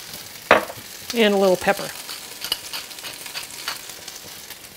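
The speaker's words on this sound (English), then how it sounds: "I'm using a large pan because I want as much surface area on the potatoes as possible so they'll brown up" Seasoned potatoes fry in a large pan with a constant sizzle, a few scraping stirs cutting through it, and a brief spoken remark near the start.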